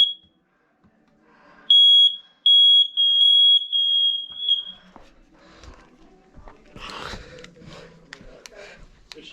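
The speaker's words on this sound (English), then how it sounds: "This will be the smoke alarm in your bedroom." A bedroom smoke alarm under test gives a loud, shrill electronic beep, first briefly, then in a rapid repeating run for about three seconds, followed by rustling, footsteps and handling noise nearby.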